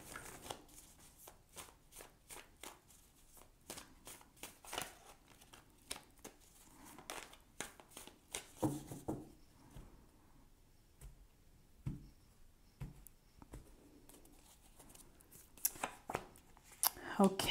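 Oracle cards being shuffled by hand, a long run of crisp, repeated riffling and flicking bursts close up, pausing briefly midway before resuming, with no clear words.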